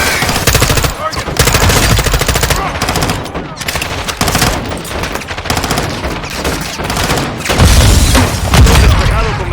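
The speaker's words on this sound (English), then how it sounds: "Grenade!" Call of Duty: Modern Warfare 2 campaign combat: a loud, dense barrage of automatic gunfire and booming explosions, including a grenade blast, with heavy rumbling impacts near the end and shouted voices mixed into the battle.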